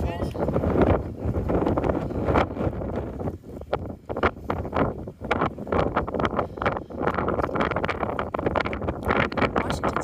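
Strong gusty wind on the summit of Mount Lafayette buffets the microphone in loud rushing bursts, with a person speaking briefly beneath it.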